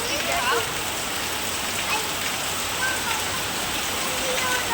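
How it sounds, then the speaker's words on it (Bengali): Heavy rain pours steadily in a constant hiss of drops striking surfaces nearby, unbroken throughout. "বৃষ্টি একদম বৃষ্টি দেখো কি হয়ে পড়ছে এই দেখো বৃষ্টি"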